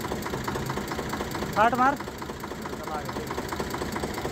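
A Mahindra tractor engine runs steadily with a rotavator attached in a farm field, a continuous mid-pitched droning hum under brief nearby talk.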